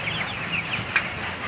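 Broiler chickens in a poultry house give soft, close clucks and short squawks over a steady low background hum, a brief burst lasting just over a second.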